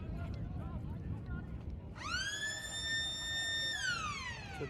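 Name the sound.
sports ground siren for quarter time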